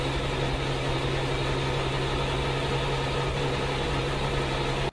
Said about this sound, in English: we're gonna use this bit since it's basically engine idling sound